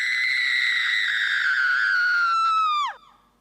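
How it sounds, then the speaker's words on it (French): A single loud, sustained scream of pain from a sound effect, held steady for nearly three seconds before sliding sharply downward and cutting off, heard alone without talk. "Des cris de douleur. Partout."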